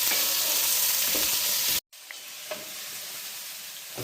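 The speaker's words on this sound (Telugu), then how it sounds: "ఇవి మంచిగా రోస్ట్ అవ్వాలన్నమాట, గోల్డెన్ బ్రౌన్ అవ్వాలి" Onions roasting in hot oil in a pan for a spicy turkey keema curry, a steady loud sizzle with stirring scrapes, a brief drop to silence midway, then frying resumes.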